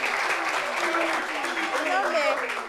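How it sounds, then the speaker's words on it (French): Studio audience applause fills the room, dense and steady clapping close by, with a voice talking over it and some whooping rising near the end. "Applaudissements pour lui encore."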